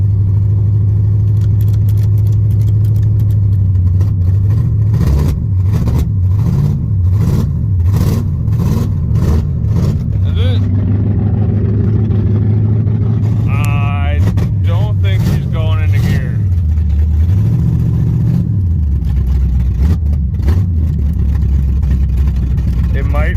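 A car engine revs repeatedly in rising and falling surges while a tire spins, likely the passenger-side wheel on a vehicle low on transmission fluid; someone talks over the engine noise.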